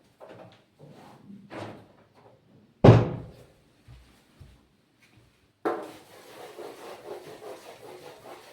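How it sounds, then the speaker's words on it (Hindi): A dark classroom board is scrubbed clean, with a few faint scuffs and one sharp knock followed by several seconds of steady, close rubbing strokes. "अब मैं रब कर रहा हूं इसको"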